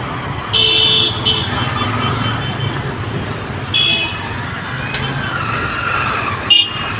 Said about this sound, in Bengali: দেখতে পাচ্ছেন যানবাহন কীভাবে চলাচল করছে